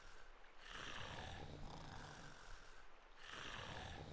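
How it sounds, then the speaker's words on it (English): Characters in Reverse: 1999 snore in a slow, even rhythm, with two long drawn breaths, faint and soft with a steady hiss underneath. "Yo, this snoring though."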